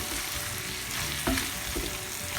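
Peppery tofu sizzles as it fries in a pan while being stirred, a steady close crackle broken by a few soft scraping knocks of the utensil.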